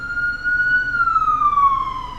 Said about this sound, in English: sorry if you can hear the sirens outside